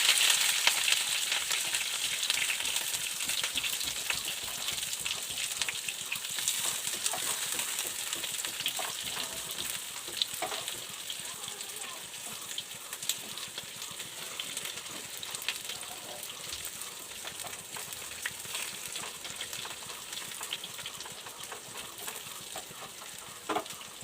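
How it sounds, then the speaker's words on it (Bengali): Pointed gourd (potol) pieces frying in hot oil, a steady dense sizzle running throughout at even loudness, with faint crackles and no talking. "পটলটা লাল করে ভেজে নেব আমি।"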